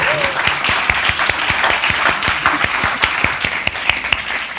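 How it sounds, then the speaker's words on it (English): A room of attendees claps for panel guests at the end of a panel discussion, a steady burst of crisp individual claps that carries on evenly throughout. "I'd love everyone to give a round of applause to our guests."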